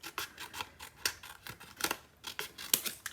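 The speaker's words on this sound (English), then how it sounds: "I'm just going to cut the white heart in half." Scissors cut a white paper heart in half for a papercraft project, a close series of crisp snipping and rasping strokes in an uneven rhythm, with no voices.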